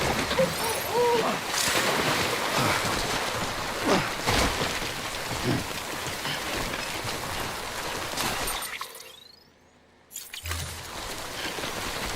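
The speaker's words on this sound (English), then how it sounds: "Don't stay out in the rain any longer than you have to." Steady timefall rain in the video game Death Stranding, a loud continuous hiss of falling drops that fills the scene and cuts out abruptly near the end before quieter game sounds return.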